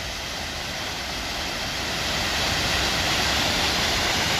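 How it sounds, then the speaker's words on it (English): A waterfall along the GR11 trail near Queralbs in the Pyrenees roars as a dense, steady broadband rush, close and loud, building slightly over the few seconds with no voices. "Another spectacular waterfall."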